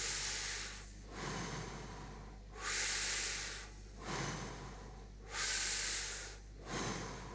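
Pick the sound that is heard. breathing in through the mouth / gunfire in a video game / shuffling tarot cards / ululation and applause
breathing in through the mouth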